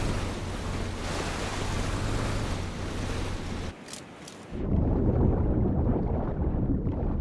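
Water ambience while swimming in the PUBG shooter game: a steady rushing wash of waves and surf that briefly dips to near silence, then returns louder and fuller, with no voices.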